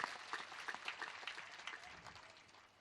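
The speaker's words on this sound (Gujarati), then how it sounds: "તો આવો એકવાર ફરીથી તાળીઓથી વધાવીએ" Audience applause at a community donation event, a dense spread of many hands clapping at moderate distance, steady through the clip with scattered sharper claps and slowly easing toward the end.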